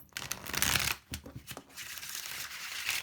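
Soft riffling and flicking of playing cards being shuffled, close by, with a few quick bursts and light papery slaps.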